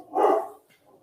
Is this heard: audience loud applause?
no